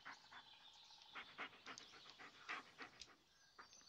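A dog's quick, breathy panting in the horror video game Blair Witch, a run of soft rhythmic pants heard faintly and close up against a quiet background.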